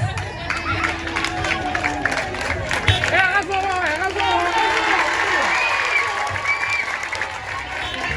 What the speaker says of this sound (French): Donc vous les applaudissez encore.